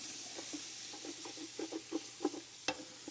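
Wooden spoon scraping browned fond off the bottom of a pan of cooking onions, a soft steady sizzle under a series of short scratchy strokes and one sharper knock near the end, close and fairly quiet.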